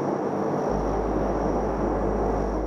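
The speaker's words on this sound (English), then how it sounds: "The P-3, it's an old military plane. The military planes are loud and vibrate, and they're cold." Inside an old P-3 military aircraft on a NASA science flight, a loud, steady broadband cabin roar with deep low rumble and vibration fills the space continuously, with no talk.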